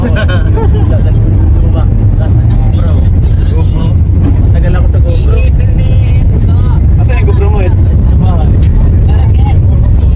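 A car is driven with a steady, loud engine and road rumble filling the cabin, while passengers talk continuously over it.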